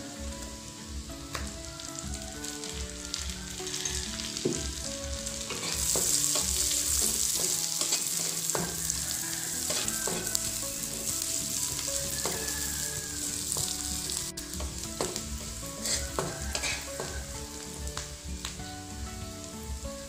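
Vegetables with carrots stir-fried in a pan for broccoli tofu in oyster sauce, a steady close sizzle with frequent spatula scrapes and clinks against the pan, no talk.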